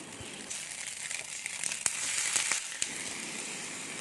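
Chopped spinach drops into a hot pan of chicken, setting off a steady crackling sizzle with crinkly rustles and a few sharp pops as the leaves hit the oil.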